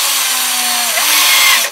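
A power drill fitted with a Forstner bit bores into a guitar headstock, a loud continuous whine that dips briefly in pitch near the one-second mark before winding down at the end.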